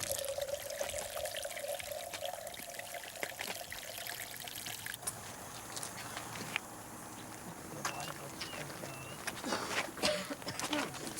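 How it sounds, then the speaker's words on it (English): Water draining straight down from a basin right on the equator, a faint trickling and pouring under light background noise and occasional clicks, fairly quiet and close. "as we drain the water, you'll see there'll be no rotation. It just drains straight down"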